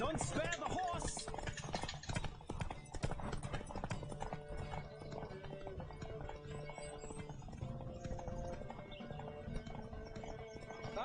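Horse galloping in a race in The Witcher 3, rapid rhythmic hoofbeats pounding close and continuous, with an occasional whinny and rattling tack underneath, fairly quiet overall.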